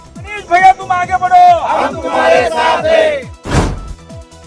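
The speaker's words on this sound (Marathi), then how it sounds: "सोलापूर कृषी उत्पन्न बाजार समितीच्या निवडणुकीत आमदार सुभाष देशमुख यांचे चिरंजीव मनीष देशमुख विजयी झाल्यामुळे कार्यकर्त्यांनी केला मोठा जल्लोष" Party workers in Solapur roar and cheer in a loud crowd celebrating an agricultural produce market committee election win, with sustained chanting voices and a sharp burst of noise near the end.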